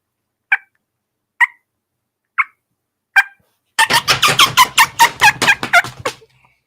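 A turkey call imitates a hen's fly-down cackle: four single sharp clucks spaced about a second apart, then a fast, loud, irregular burst of rapid cackling notes with faint wing-like thumps underneath, close and alone.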